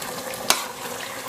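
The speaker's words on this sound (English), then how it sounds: "So mix that in well" Frozen spinach is stirred into a lamb curry in a pressure cooker pot, a soft wet sizzling churn broken by two sharp clicks of the spoon against the pot.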